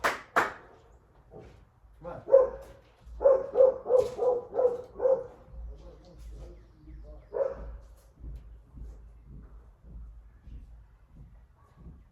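Dogs bark at a pottery pit-firing site outdoors, first a couple of sharp barks, then a rapid burst of five or six loud close barks, followed by scattered fainter yips and shuffling.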